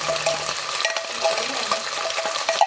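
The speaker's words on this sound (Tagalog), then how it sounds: "haluin muna natin" Food being stirred and tossed in a pan while cooking, a busy scraping and sizzling texture running steadily throughout at moderate loudness, with a brief clink near the end and no talk.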